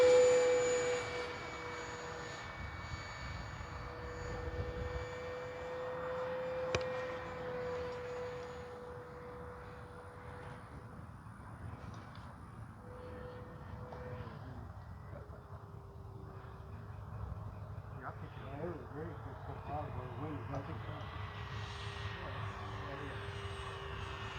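A KAVAN Bristell B-23 radio-controlled model airplane's engine whines steadily overhead, its pitch drifting lower as it flies past and away, with faint background noise throughout.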